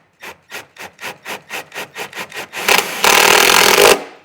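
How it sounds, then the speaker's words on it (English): An impact driver sinks a self-tapping screw into the body of a 2022 Jeep to mount a trailer wiring ground: about ten quick rhythmic rasping bursts, then a louder sustained buzzing run. Close and clear, with no talking. "So I'll grab my impact and my self-tapping screw and get this mounted up first."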